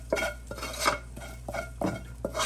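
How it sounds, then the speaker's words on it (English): A spoon scrapes out a cast-iron skillet that will be reused for a gumbo roux, giving steady, repeated metallic scrapes about every half second over a low hum, close up and with no voices. "we're going to scrape it out like so"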